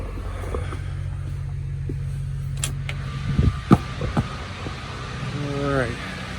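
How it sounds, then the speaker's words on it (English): A generator parked just outside a warehouse door hums with a low, steady drone, its rumble underlying a man's speech along with a few knocks and a brief rising mechanical whine near the end. "we have our generator parked right outside the door"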